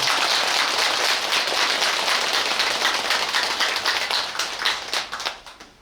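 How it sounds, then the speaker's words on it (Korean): Audience claps steadily at a Buddhist temple consecration ceremony for a new Buddha triad statue, a dense, close round of applause that thins and fades out at the end. "큰 박수 한번 보내주시기 바랍니다"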